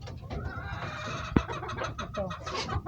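Backyard pet chickens cluck and murmur close by while being fed by their owner, with a soft continuous chatter of hens and one sharp knock midway.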